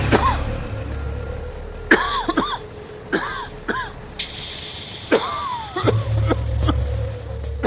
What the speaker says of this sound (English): I was quite breathless and constantly coughing and coughing.